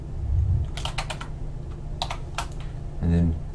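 Typing on a computer keyboard while entering a command in mapping software: a few quick clusters of close key clicks separated by pauses, over a low room hum, with a short murmur of voice at the end.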